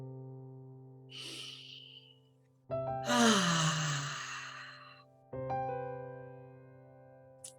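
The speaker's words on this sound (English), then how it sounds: "Taking a couple of deep cleansing breaths in." Slow, deep breaths, one soft inhale and then a long audible exhale that fades out, set over sustained ambient music tones.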